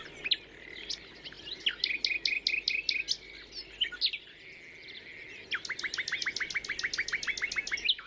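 Several songbirds sing in thick vegetation, rapid repeated chirps and trilled phrases in bursts, bright and fairly close over a faint insect hum, with no talking.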